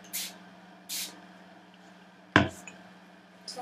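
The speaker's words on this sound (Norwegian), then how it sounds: "Og så sprayer jeg bare på kosten." Water is sprayed onto a makeup brush used for loose powder: two short, crisp hissing bursts close by, then a single sharp knock, with no talk.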